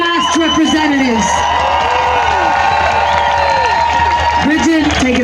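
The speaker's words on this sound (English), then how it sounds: "A big round of applause for our Hugs Over Masks representatives." A crowd at an outdoor Parliament Hill protest in Ottawa claps and cheers for youth representatives, steady applause mixed with whoops and voices throughout.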